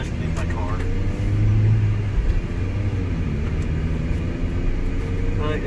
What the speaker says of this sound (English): It's just so weird hearing the little four-cylinder.